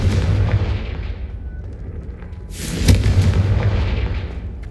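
Confringo spell explosion in Hogwarts Legacy, a single loud fiery boom bursting out of rumbling ambience and trailing off into a crackling, roaring decay.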